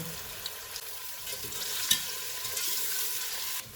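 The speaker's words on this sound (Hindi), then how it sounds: "इसमें 2 प्याज डालेंगे। इनको गोल्डन ब्राउन फ्राई करेंगे।" Two onions sizzle steadily in about three-quarters of a cup of hot oil while being stirred and fried to golden brown for beef korma, a continuous close frying hiss with faint spoon scrapes and no talking.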